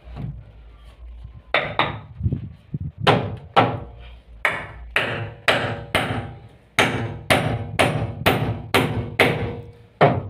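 Nails being driven into wood while building an OSB house, a series of sharp, ringing hammer blows, first a few spaced taps, then a steady run of loud strikes at close range, with no talking.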